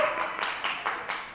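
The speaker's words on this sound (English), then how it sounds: "So please give yourselves a round of applause" Scattered applause from a modest audience at a general assembly gathering, soft and somewhat distant, with loose clusters of claps rising and fading over a second or so.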